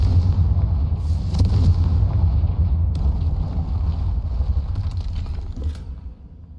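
A Confringo spell explosion in Hogwarts Legacy lands as a deep rumbling boom with crackling debris, loud at first and then slowly fading over several seconds.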